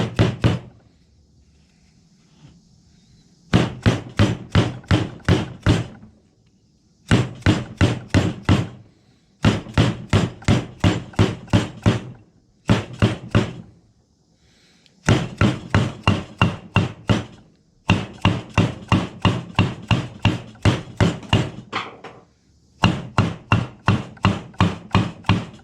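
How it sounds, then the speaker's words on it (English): A rubber mallet taps a seal into place on a Polaris XP 1000 front differential, delivering rapid bursts of sharp, close knocks in groups of about six to ten, separated by short pauses. "rubber hammer."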